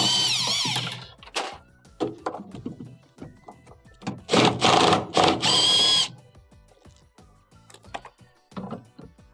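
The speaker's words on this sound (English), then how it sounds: "I'm going to use a 10mm socket this time to remove the bolts." Bolts being removed with a 10mm socket from the clutch assembly of a Frigidaire washer, heard as a series of close ratcheting and metallic clicks with louder bursts of turning in the middle, and no talking.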